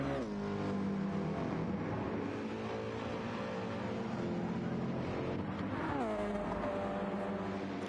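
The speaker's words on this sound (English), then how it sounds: "Lovely sound from Rossi's car." Rossi's race car engine drones steadily in a meaty, buzzing tone with a rising pitch sweep near the end, fairly faint and heard without talk.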